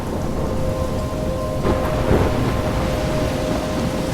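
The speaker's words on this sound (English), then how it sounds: "The storm? How did I get here?" A thunderstorm with steady heavy rain in the video game Life is Strange, a dense constant hiss of rainfall with a low rumble of thunder swelling midway, and no voices.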